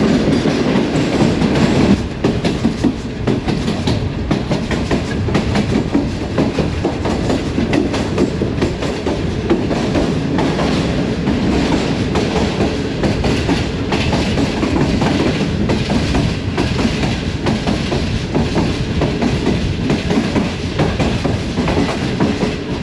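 Green Line passenger train passing through Lahore Cantt station, a steady loud rumble and rattle of carriages rolling over rails throughout, with continuous clickety-clack and no talking.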